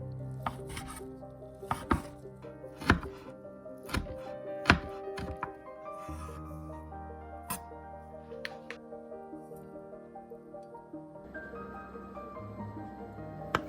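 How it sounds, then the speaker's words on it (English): A kitchen knife thinly slices sun-dried tomatoes on a cutting board, giving sharp irregular chops that then settle into quieter cutting, with faint background music. "Sun-dried tomatoes are sliced thinly"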